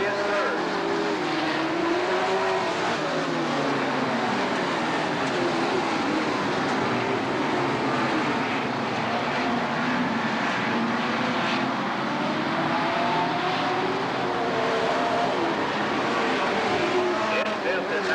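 Sportsman feature race cars at a 1991 county fair roar continuously around a dirt track, engines droning loud and steady as they pass, under a public-address announcer calling positions.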